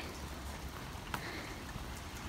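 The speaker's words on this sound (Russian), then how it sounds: "Дождь идет очень сильный" Heavy rain falling steadily outdoors in May, a dense, even hiss of drops on surfaces, fairly quiet and continuous, with no talking.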